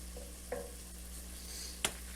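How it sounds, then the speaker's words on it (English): Ground meat in a skillet, shoved to one side of the pan, gives a soft steady sizzle with a couple of brief scraping clicks from the utensil, close and fairly quiet with no talking. "we're going to scoot all of our ground meat over to one side"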